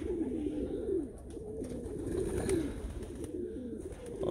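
Tiger grizzle and Meuleman racing pigeons coo in a loft, with several birds giving soft overlapping rolling calls continuously at close range and no talking.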